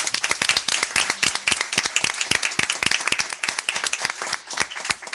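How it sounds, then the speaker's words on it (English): A council meeting audience claps to welcome two new police sergeants, a fairly small group with distinct, sharp individual claps in a quick uneven patter, close and loud, continuing without letting up. "So if you would just welcome both of these with a round of applause"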